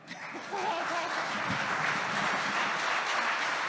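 An audience of inmates at a correctional center concert claps with songwriters performing. A steady wash of applause swells in after a quiet start and holds evenly throughout.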